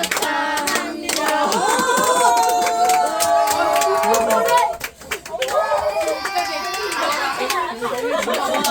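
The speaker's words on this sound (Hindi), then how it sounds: "सबने शोर किया ना, तालियां बजा रहे थे, बोल रहे थे" Guests at a little girl's birthday party in Korea make a lively din, with scattered clapping mixed into loud overlapping chatter, children's voices and shouts that dip briefly before rising again.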